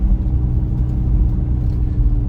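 A camper van with an 80/20 aluminium-frame interior is driven on a test drive, giving a steady, loud low road rumble and engine drone heard from inside the cabin, without talk.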